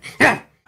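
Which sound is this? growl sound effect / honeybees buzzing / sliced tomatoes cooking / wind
growl sound effect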